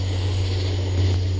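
A helicopter passes overhead, a steady low rotor drone with a constant hum throughout.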